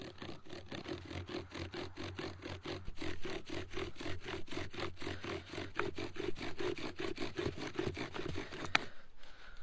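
Bow drill spindle grinding into a sagebrush fireboard while making fire, a steady, rapid back-and-forth scraping rhythm for most of the clip, close and continuous, stopping abruptly near the end.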